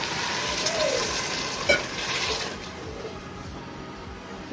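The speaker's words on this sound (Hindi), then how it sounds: "तो यहाँ मैं इसमें पानी ऐड करने लगी हूँ।" Water is poured into a pot of chickpeas and potatoes in a home kitchen, making a gushing, splashing rush that is loud at first and then settles to a softer trickle, with no talk.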